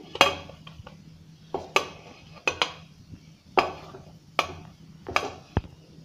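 Mawa (khoa) being roasted in a pan while stirred with a metal spoon, sharp clinks and scrapes against the pan recurring every half second or so over a faint low background, nearby and fairly quiet.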